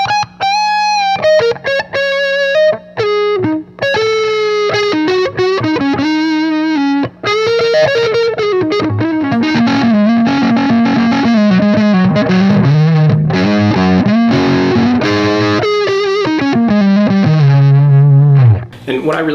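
Electric guitar with a sweet, woody mid-range tone close to a saxophone, singing sustained lead lines and bends with heavy distortion, loud and continuous with no talking.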